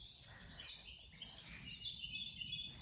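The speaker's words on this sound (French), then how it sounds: "Le chant des oiseaux à écouter" Birds singing outdoors, a faint mix of high chirps and twittering phrases from a distance, continuous and layered over a low quiet background.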